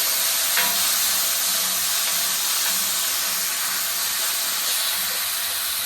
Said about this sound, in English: So I'm going to go ahead and add our garlic to the pan.